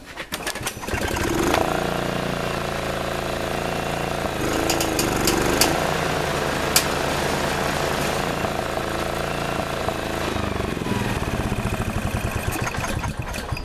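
A Deutscher H660 mower engine runs steadily with its blade drive engaged, a loud continuous rough motor drone with rattling mechanical clatter, close and alone throughout.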